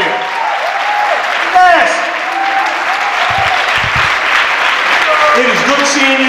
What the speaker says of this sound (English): We need to hear a long round of applause here.